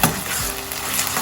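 Ginger garlic paste frying in hot oil in a pan for a ridge gourd prawn curry, a dense, loud, continuous sizzle with a stirring scrape near the start, no voices.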